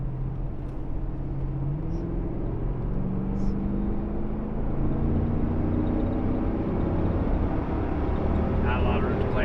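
Lexus GX460 SUV with an aftermarket tune pulling at full throttle, a steady loud engine drone rising in pitch through gear shifts while people talk over it inside the cabin.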